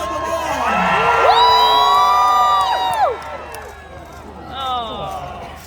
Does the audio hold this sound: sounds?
no